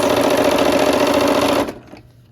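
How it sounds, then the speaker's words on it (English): A sewing machine runs fast and loud, stitching quilt block sections into a nine-patch, a steady rapid whir for about a second and a half before it stops abruptly. "we're here at the machine, and we are going to sew those sections together into a 9 patch"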